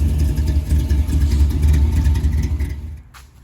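A slammed, cammed hot rod engine runs close and loud with a deep, lumpy low rumble that steadies, then cuts off near the end, with no voices.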